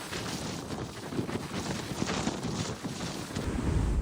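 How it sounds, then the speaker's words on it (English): Strong wind roars steadily against the microphone during a storm on the coast of Maine, with a broad rushing wash like surf beneath it, loud and continuous throughout. "Every gust of wind seemed determined to tear apart the coast of Maine."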